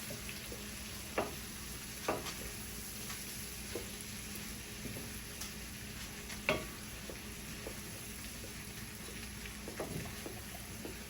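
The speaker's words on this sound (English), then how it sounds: "So just let these caramelize and cook down." Food caramelizes in a pan over a medium flame, giving a soft steady sizzle with occasional sharp pops and crackles scattered through, fairly quiet and heard alone.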